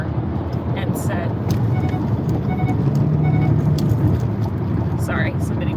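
A car driving in traffic gives a constant low road rumble and engine drone from inside the vehicle, with someone talking over it throughout.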